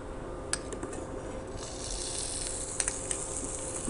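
Garlic dropped into hot oil for palak paneer, frying with a steady close sizzle and hiss that thickens after the first couple of seconds, broken by a few sharp crackles and pops.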